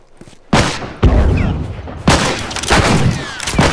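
A grenade blast and bursts of gunfire erupt in a multiplayer match of The Last of Us, with heavy booming impacts and rapid overlapping shots layered into a loud, chaotic battle din.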